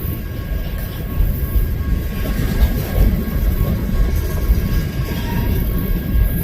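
A freight train hauling a long string of grain cars rolls past in downtown Galesburg, giving a steady, loud, continuous rumble with no break and no voices.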